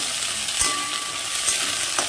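Cauliflower florets frying in very hot oil in a kadai, unseasoned with no salt or turmeric, giving a steady sizzle with a few soft stirring scrapes, close and alone.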